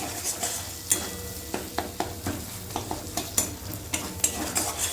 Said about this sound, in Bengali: এই সময়তে দিয়ে দেবো একটা ছোট সাইজের টমেটো কুচি